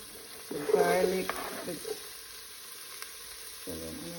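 Scallion, onion and garlic drop into hot oil in a pot and sizzle, a loud burst of frying that fades to a soft crackle, with faint stirring and a brief voice near the end.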